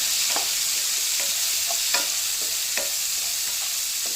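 Onions fry in a pan for matar paneer bhurji, a constant close sizzle with intermittent soft scraping strokes as they are stirred, with no voices.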